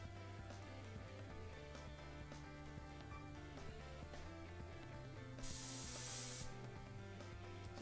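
An airbrush sprays thinned paint in a single short hissing burst of about a second, heard over a steady background of soft music.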